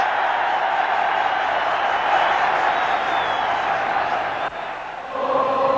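A large Liverpool football crowd roars and cheers continuously at a big match day in a stadium, a loud, dense wall of voices with a brief dip near the end before swelling again.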